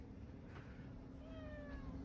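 A house cat meows softly a couple of times, the close, faint calls rising and falling over quiet room tone.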